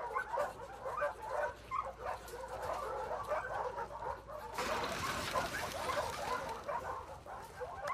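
A dog in The Last of Us Part II gives short whimpers and yips, moderately close over a steady background hiss that thickens partway through, with no speech.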